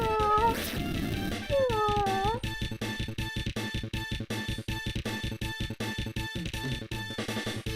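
A person imitates a cat's meow, producing a couple of rising, wavering vocal meows near the start over loud, busy game music with sound effects that continue throughout.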